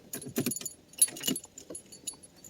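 Keys jangle and rattle in bursts near the ignition of a 2004 Mercedes S430 limousine, a close, light metallic clinking with short pauses between.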